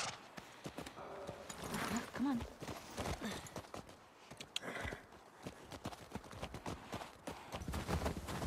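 Horses walking at an even pace, hooves clip-clopping in a steady rhythm, moderately close, with people talking over them throughout.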